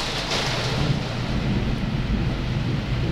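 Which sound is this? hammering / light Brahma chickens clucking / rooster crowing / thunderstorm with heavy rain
thunderstorm with heavy rain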